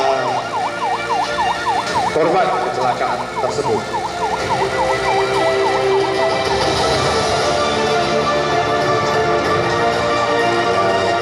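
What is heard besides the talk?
ambulance siren during security guard training exercise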